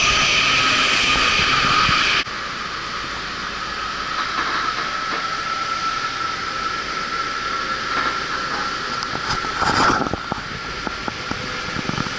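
Amtrak train rolling through a station, a loud continuous rumble and rail noise with a squeal around the middle and later, steady throughout with no talking.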